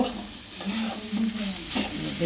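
Food sizzling in a frying pan as it is stirred, close scraping strokes over a constant crackle, no voices.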